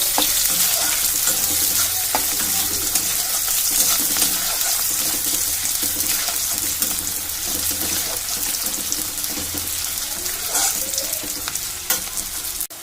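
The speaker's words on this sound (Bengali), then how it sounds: "তো লাল লাল করে ভাজা হয়ে গেছে" Onions frying in a pan, a loud, close, continuous sizzle with stirring scrapes running throughout.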